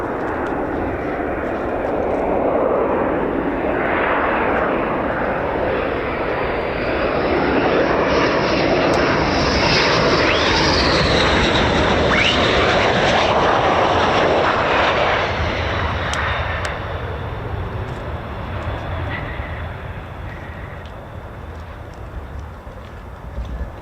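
A fighter jet roars past at RAF Lakenheath home of the 48th Fighter Wing with F-15 and F-35 aircraft, the loud engine noise swelling to a peak and then slowly fading away.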